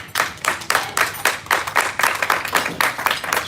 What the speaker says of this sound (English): sure, clap for yourself